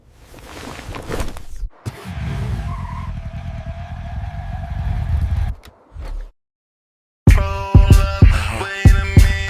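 A motorcycle engine runs at a steady, close, throaty roar for about six seconds, drops out briefly, then gives way to silence before loud music with a beat starts.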